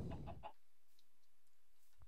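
A chicken in the Minecraft video game clucks in a short burst of three quick notes, followed by near silence and a faint sound at the very end.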